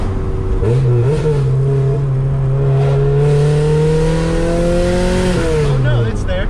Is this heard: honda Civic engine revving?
yes